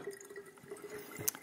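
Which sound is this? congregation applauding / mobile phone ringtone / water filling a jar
water filling a jar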